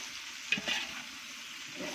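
Onions browning in oil alongside mint and coriander leaves for biryani give a soft, steady sizzle with a brief stir clatter near the middle, close and fairly quiet throughout.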